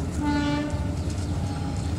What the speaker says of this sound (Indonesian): kereta api Pasundan masuk jalur 3 ya, siap bersilang dengan kereta api Serayu Pagi dari Purwokerto